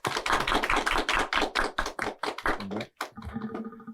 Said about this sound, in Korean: 손혜진 전무님, 큰 박수로 좀 맞으시기 바랍니다